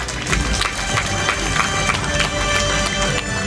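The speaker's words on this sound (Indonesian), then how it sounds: "Kita berikan tepuk tangan." A crowd at a university anniversary ceremony applauds scholarship recipients with steady, dense clapping that fills the room without pause, with little talk over it.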